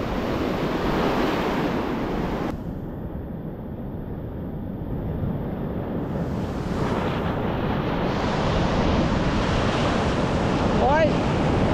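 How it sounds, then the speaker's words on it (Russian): Stormy sea surf crashing and hissing onto a beach after a night of wind and thunderstorms, a continuous loud wash of breaking waves with gusty wind buffeting the microphone throughout. "Сегодня море штормит."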